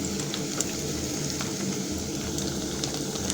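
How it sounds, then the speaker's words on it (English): Cumin seeds and onion fry in a pan for an egg curry, giving a steady, close sizzle with a soft crackle that holds at an even level throughout. "I'm waiting for the cumin seeds and the onion to cook."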